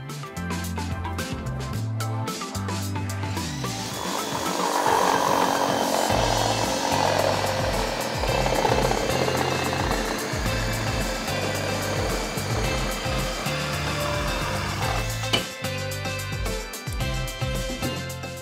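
A Ryobi 18V ONE+ cordless reciprocating saw cutting, with a loud, continuous buzzing and rasping through the whole stretch, a surge in the middle and a sharp knock near the end, with no talk over it.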